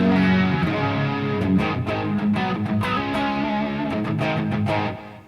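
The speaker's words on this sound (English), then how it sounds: "we still got a distortion pedal on, but that actually sounded nice" Electric guitar played through a distortion pedal on a Line 6 Helix, a warm, thick driven tone sustaining chords and notes steadily at close range, with no talking, fading out at the end.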